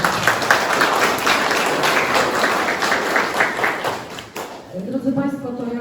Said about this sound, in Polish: Wielkie brawa dla Pana.